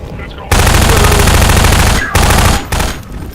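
Sustained automatic fire from an assault rifle in the shooter game Prospekt, loud and close, one long burst followed by two shorter ones with brief gaps, with no talking.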